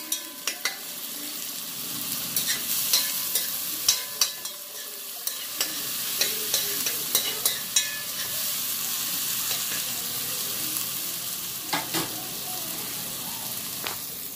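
Seasoning sautés in a pan with a steady, close sizzling hiss, punctuated by scattered clicks and scrapes of stirring throughout, with no talking.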